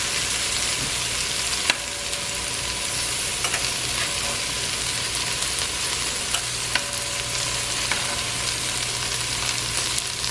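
Okra frying in a pan gives a steady, broadband sizzle throughout, with occasional soft clicks of stirring and a low hum underneath.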